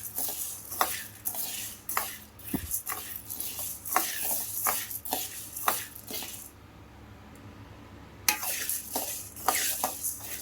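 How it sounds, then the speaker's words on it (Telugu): Spices for sambar powder dry roasting in a pan, stirred with a utensil that makes repeated scraping and clinking strokes against the metal over a soft rustle, with a brief quieter pause before the stirring resumes. "ఇవి ఇలా వేయించుకోవాలి ఇవి సగం వేగినాక మిరియాలు జీలకర్ర మెంతులు అన్నీ కలిపేసుకున్నాం"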